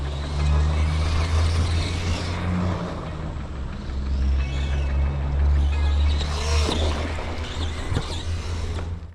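A budget Arrma RC truck drives with a continuous motor drone that swells and eases as it speeds up and slows. Scattered scuffs and rattles sit over the hum, fairly loud and close, with no talking.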